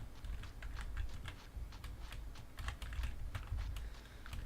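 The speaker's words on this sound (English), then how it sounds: "I also switched from a mechanical keyboard to my membrane keyboard, so hopefully the key clicks will be a lot less audible" Soft, irregular key clicks come from a membrane computer keyboard during PC gameplay, with rapid taps and small bursts over a low background hum and no talking.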